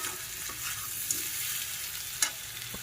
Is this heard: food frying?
yes